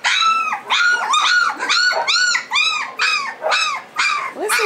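Young puppies from a litter let out a run of about nine close, loud, high-pitched yips and whiny barks with growly edges, coming in a steady rhythm with short gaps between them.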